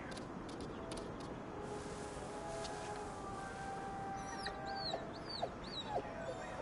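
A hungry dog whimpers in the video game GhostWire: Tokyo, thin high yelps and whines rising over a steady low ambient drone, growing more frequent toward the end.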